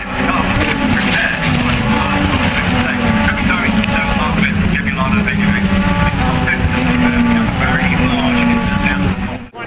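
A loud race car pile-up on a circuit, with engines roaring steadily throughout and broadband crash and skid noise layered over them, while an excited commentator talks on top.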